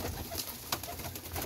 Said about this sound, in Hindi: ये है जी कबूतर